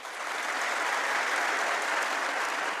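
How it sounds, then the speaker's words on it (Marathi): Loud, dense applause from an audience at a motivational lecture, a steady wash of clapping that holds at full strength throughout. "जोरदार टाळ्या होत्या डबल."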